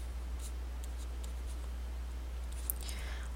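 Pen or marker strokes on a surface while an algebra problem is written out, a faint steady scratching with a few brief taps, low and close, alone without talk.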